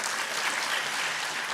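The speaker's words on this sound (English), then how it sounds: "A big round of applause for Madam." Sustained applause from an audience at a youth entrepreneurship event at KIIT in Odisha, a steady, dense wash of clapping hands that fills the whole moment without any talk.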